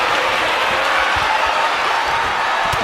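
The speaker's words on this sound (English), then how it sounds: "this exchange is whipping this capacity crowd into a frenzy" A capacity crowd at a combat-sports fight night roars steadily and loudly throughout, a dense wash of cheering and noise with no clear breaks.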